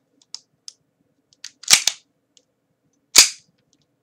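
A WE Tech Desert Warrior 4.3 airsoft pistol fires sharp, snappy close shots with small clicks between them, a couple of louder bangs spaced out amid near silence.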